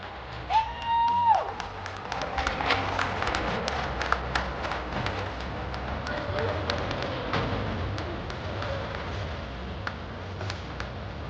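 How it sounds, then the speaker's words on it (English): An audience at the Miss Motorama pinup pageant claps and cheers as contestants return to the stage, a steady spread of applause with whoops and crowd noise, a voice briefly over it early on. "Give them all a round of applause, everybody."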